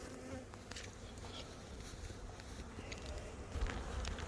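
A nuc-sized honeybee colony in a hive sitting on the ground hums with a dense, continuous buzz of many bees up close, with a few faint shuffling sounds underneath and no speech.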